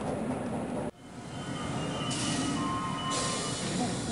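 Subway train rumbling through a station in the adventure game Gabriel Knight 2, set in Germany: a steady low roar of rolling cars with faint squealing tones, continuing after a sudden drop and sounding close and sustained.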